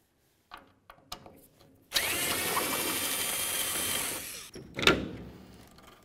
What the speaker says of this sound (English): Remove those with a Phillips head screwdriver.